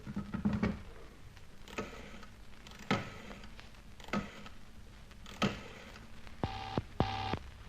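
A telephone being dialed in an old radio drama, heard as a series of separated rotary clicks and whirs, followed near the end by two short ringing bursts.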